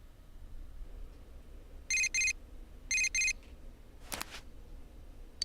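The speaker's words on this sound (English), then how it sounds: "You received a text message." Persona 4 Golden text message notification: two short bursts of a bright double chime, each burst a quick pair of electronic tones, the second burst arriving about a second after the first, followed by a brief tonal blip, over a faint background hum.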